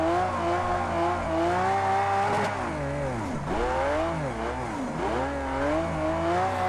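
Lamborghini Veneno heard from the cockpit in Project CARS 2: a steady, loud engine drone whose pitch drops and climbs again twice as the car brakes and accelerates, running alone with no voices.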